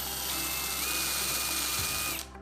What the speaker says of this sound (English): we're going to take the point of our bit, we're going to line it up, and we're going to start drilling.